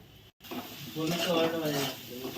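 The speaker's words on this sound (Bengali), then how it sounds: "এখন সব মশলা ভালো করে কষিয়ে নিচ্ছি" Spices and tomato sizzle in a pan while being stirred, a soft frying hiss with light scraping, under someone talking. The dish is a goat meat and katla fish kalia.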